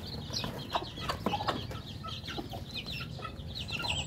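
Chicks and hens in a backyard chicken yard: soft, continuous clucking from several birds mixed with high chick peeps, close and fairly quiet, with scattered scratching in the background.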